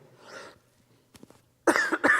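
Faint murmuring leads into a short pause, then a close, loud cough bursts out in two harsh rasping hacks.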